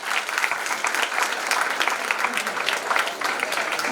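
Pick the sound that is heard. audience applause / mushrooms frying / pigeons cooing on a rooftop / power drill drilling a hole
audience applause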